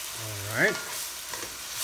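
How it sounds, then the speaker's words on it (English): Corned beef and ampalaya are sautéed and mixed in a pan, with a steady close frying hiss and a short squeaky scrape of the utensil. "Give it a good mix. And we're gonna saute this for 1 minute"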